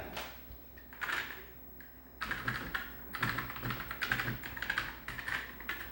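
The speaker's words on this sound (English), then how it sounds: "we'll use this to test the keyboard" Bursts of typing on a Commodore SX-64 computer keyboard, quick key clicks in uneven clusters with short pauses between, close and fairly quiet.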